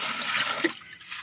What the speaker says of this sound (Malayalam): ജാറിനകത്തോട്ട് വെള്ളം ഒഴിച്ച് കൊടുക്കുക.